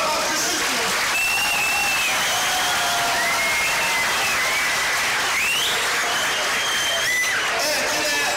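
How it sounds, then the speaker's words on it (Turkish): Continuous, dense clapping from a large crowd fills the air at a traditional Turkish oil wrestling festival, with scattered whistles over the sustained applause. "Moral alkış istiyoruz."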